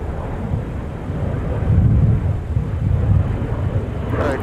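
Airplane taking off at MSP airport, a loud, steady low rumble of jet engines that swells and holds, heard from outside with wind buffeting the microphone.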